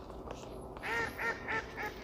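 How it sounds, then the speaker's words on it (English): Ducks at Duke Gardens in North Carolina quack four times in a row, faint and distant over a quiet outdoor background. "And I hear ducks. Do you hear ducks?"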